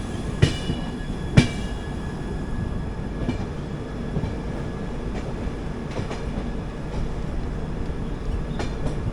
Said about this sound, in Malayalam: നമ്മൾ ട്രെയിൻ ജസ്റ്റ് സ്റ്റേഷനിൽ പുറത്തിറങ്ങി വരുന്നതാണ്.